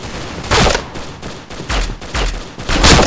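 Gunfire in the Point Blank shooter game, an MK23 pistol firing several sharp, loud shots in irregular bursts close to the listener, with no talk.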